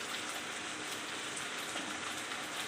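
Chicken sizzling steadily in a pan while being browned for a Bengali-style jackfruit curry, a dense, continuous crackling hiss that runs evenly throughout, close and fairly loud, with no talking.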